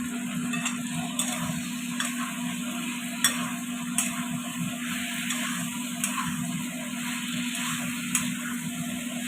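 Pointed gourd (potol) frying in hot oil in a home kitchen, a steady low sizzle with occasional faint ticks and stirring clicks, close and moderately loud, with no talking.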